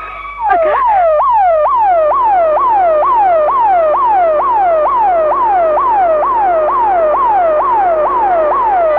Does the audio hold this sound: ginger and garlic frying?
no